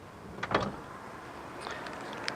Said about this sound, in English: So you open this door manually.